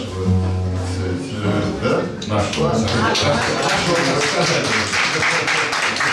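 Audience applause at a concert by two Belarusian singers: dense, sustained clapping builds after a moment of talk and continues steadily, with a voice speaking over it.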